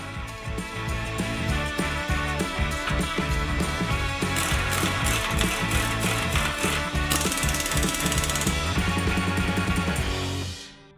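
Winch mounting bolts being tightened down on a ZJ bumper, giving a near, steady run of rapid ratcheting clicks that continues for about ten seconds with no talking.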